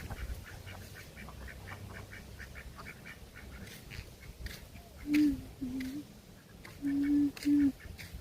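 A few ducks give short, loud quacks near the end, four distinct calls in two pairs, after a quieter stretch of soft outdoor background.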